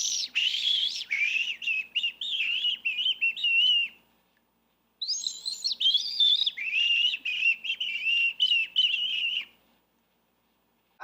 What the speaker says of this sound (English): White-throated sparrow, whistler of the north.